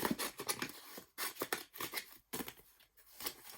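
Scissors cut into a paper shopping bag close up, giving a quick run of crisp snips and crinkles in short irregular bursts with brief pauses between them.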